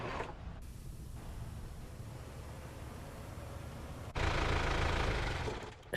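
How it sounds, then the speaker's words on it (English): A struggling car engine in a video game sputters and rattles with a rough, noisy drone, then surges louder and harsher near the end before cutting back. "The engine just died."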